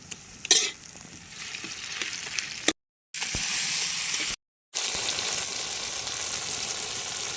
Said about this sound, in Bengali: এটা এখন ভালো করে ভেজে নিচ্ছি